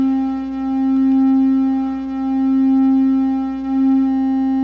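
Plaits modular synthesizer oscillator sounding its first tone: a steady, plain pitched drone with a faint slow phasing wobble, held alone and unchanging.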